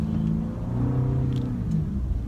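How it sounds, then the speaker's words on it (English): A car engine that is not shifting into gear properly rumbles steadily at close range, a low droning hum with slight shifts in pitch, no voices present. "Can you hear my car? It's not kicking into gear right."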